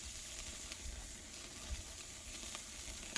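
Hamburger patties sear on a Weber grill with a faint, even sizzling hiss and the odd small pop.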